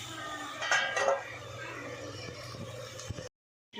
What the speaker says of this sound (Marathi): त्याच्यावर आपण 15-20 मिनिटासाठी झाकण ठेवणार आहे.